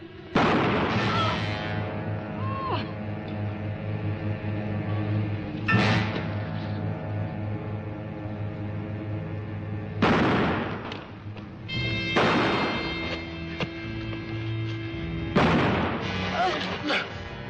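Gunshots ring out in a western film: several loud, sharp blasts spaced a few seconds apart, each with a short ringing tail, over a dramatic orchestral score and some dialogue.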